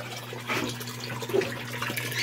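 Water gushing from a homemade electric water pump drawing about 50 watts, a close, continuous splashing flow over a steady low motor hum.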